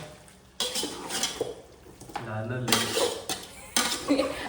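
Metal spoon scraping and clanking in a pan as biryani ingredients are stirred and sautéed, with irregular clatters and a faint sizzle underneath, while a voice speaks briefly in between.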